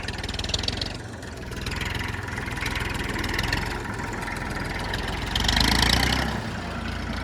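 A tractor engine idles steadily on a farm, a close, continuous low chugging that swells briefly louder near the end, with no talking.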